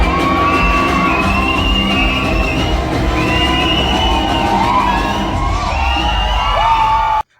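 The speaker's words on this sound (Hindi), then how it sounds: "आप सुनना लोगों की सीटियां तालियां कैसी थी" A packed cinema audience at the opening of the action film They Call Him OG erupts in loud, continuous cheering, with sharp sliding whistles and shouts ringing out repeatedly before stopping abruptly.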